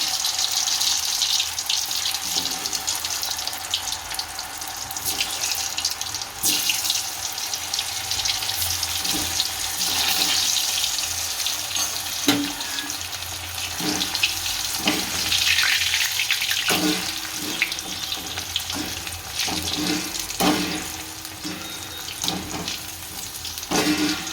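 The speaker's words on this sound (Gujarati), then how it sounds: "આપણે તળી લઈશું." Potatoes for dum aloo fry in hot oil with a continuous loud bubbling sizzle, broken now and then by clicks and scrapes of a utensil moving them around.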